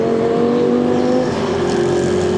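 Audi race car driven by Filipe Albuquerque at Spa Francorchamps in 2011, a loud sustained engine drone with steady harmonic tones, heard alone and close.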